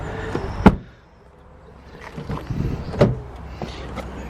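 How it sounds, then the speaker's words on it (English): Electric windows on a Honda Jazz 1.4 SE CVT hatchback whir up and down, with two sharp clunks as each glass seats against its stop, heard up close with some faint car interior rustling. "It's got electric windows all round."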